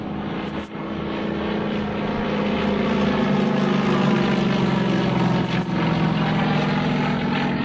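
Steady, loud drone of propeller airplane engines overhead, including a Yak-18 flying in formation at an airshow, a continuous roar with a low hum that holds throughout.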